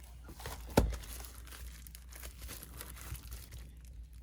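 Album plastic wrap is torn open by hand, giving one sharp rip followed by steady soft crinkling and rustling up close, with no one talking.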